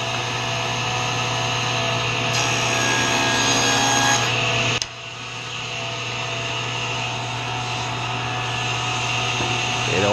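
A power saw whines steadily and loudly, close by, while cutting wood pieces for a herringbone box, with a brief dip in pitch midway before the cut resumes.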